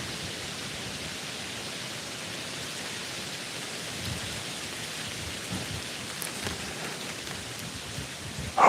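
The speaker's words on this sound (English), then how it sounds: "Hopefully this cat whisker is cutting down on that wind noise so you guys can hear." Wind gusting at 15 to 18 mph buffets a microphone fitted with a cat-whisker windscreen, outdoors beside a giant oak tree just after rain, a steady close roar that runs the whole time with no talk.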